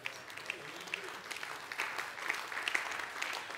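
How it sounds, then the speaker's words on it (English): Modest audience applause at a team session, a thin patter of scattered clapping with a few sharper claps, steady at moderate level without cheering or talk. "You notice how half-hearted that applause is, Mike?"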